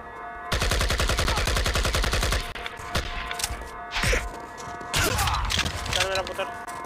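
Sustained Uzi submachine-gun fire in the shooter IGI 1, a loud fast rattle of evenly spaced shots for about two seconds, then scattered thuds and a second burst of rapid shots near the end.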